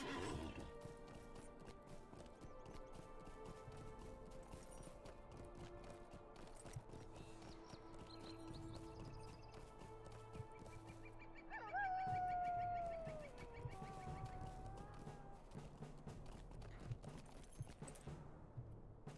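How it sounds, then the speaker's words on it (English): In the video game Lord of the Rings Online, a horse whinnies loudly over steady clip-clopping hooves and continuous background music, with no one speaking. "Let's get on a horse."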